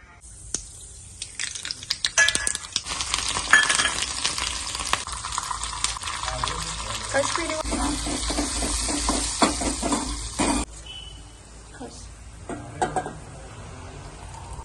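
Spices tempering in hot oil in a pan for a mung bean curry, loud close sizzling and stirring that crackles for about ten seconds, then drops to faint scattered sizzles.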